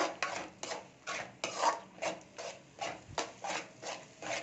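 Ingredients for egg biryani are sautéed and stirred in a pan, giving a faint, steady run of about a dozen rhythmic scraping, rubbing strokes.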